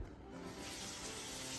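Water rushes steadily from a tap into a pot holding chicken, a continuous close splashing fill with no pauses.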